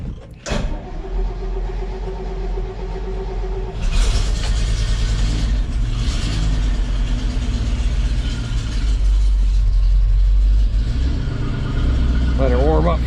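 A truck engine turns over and settles into a steady, loud low rumble as it warms up, with a few brief higher surges and clunks near the vehicle and a person talking over part of it.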